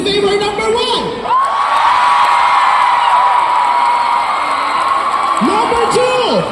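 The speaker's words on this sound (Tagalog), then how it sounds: "palakpakan namin kasama ang hiyawan kung gusto ninyo" Crowd at the Kalayaan Caravan event in Dubai cheering and shouting loudly, a sustained roar of whoops and yells with a sung or called voice riding over it at the start and end.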